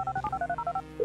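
A mobile phone in Grand Theft Auto V dials a bomb detonation number: a quick string of about ten clear electronic keypad tones in a steady rhythm, ending with a longer held tone.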